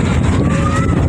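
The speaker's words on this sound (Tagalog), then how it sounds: "Malakas ng hangin, alon." Strong wind and waves buffet a small fishing boat out on Manila Bay off Navotas, a loud, steady roar of wind noise hitting the microphone, close and continuous, with no talk.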